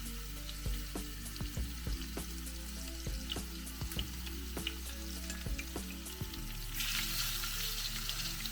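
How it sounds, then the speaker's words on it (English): Chicken pieces frying in a hot pan for honey mustard chicken, a steady loud sizzle with scattered pops and clicks, growing brighter and more intense near the end. "Now, start adding the chicken pieces. You're going to cook them for 3 minutes on each side or until they are nicely browned."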